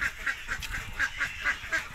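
Domestic ducks at their sleeping spot on a Philippine farm where eggs are being collected, giving a steady run of about eight short, faint nasal quacks at a regular pace, with no talking.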